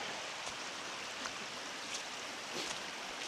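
Buck Creek flows beside a mountain trail near Steels Creek, a faint, steady broadband rush of moving water with a few soft splashes and no talking.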